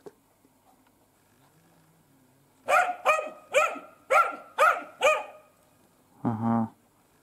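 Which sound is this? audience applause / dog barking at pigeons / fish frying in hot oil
dog barking at pigeons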